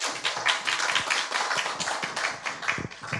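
An audience at a 2020 Daegu Suseong regional book fair library author talk applauding the author, a dense, fairly close round of clapping sustained for a few seconds.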